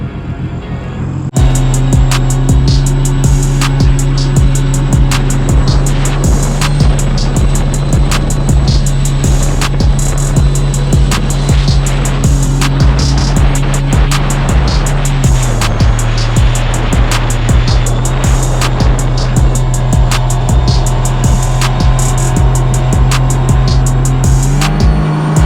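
A Sea-Doo RXT 260 personal watercraft runs on a test ride with a steady, loud engine drone. The pitch shifts slightly partway through, with splashy water noise over it and no talking.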